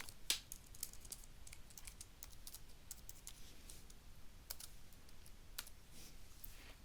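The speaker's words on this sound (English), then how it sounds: "So I'm going to type the password" A password is typed on a computer keyboard in quick, faint clicks. The key taps come in scattered bursts against a quiet background.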